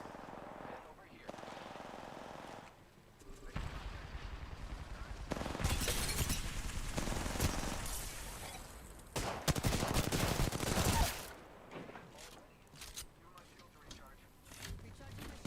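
Bursts of rapid gunfire from a first-person shooter video game, loud stretches of firing broken by quieter pauses, with a player's voice talking over the action at times.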